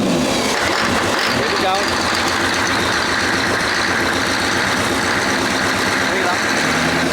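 A 6.5 Chevy turbo diesel in a GQ Patrol cranks and then runs at full throttle, giving a loud, steady, gravelly engine roar that holds for the whole stretch, with a brief spoken remark over it.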